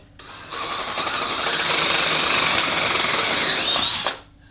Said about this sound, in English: you're gonna have to drill your holes in through there